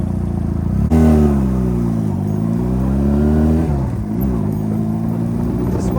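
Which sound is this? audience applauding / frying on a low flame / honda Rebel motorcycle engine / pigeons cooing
honda Rebel motorcycle engine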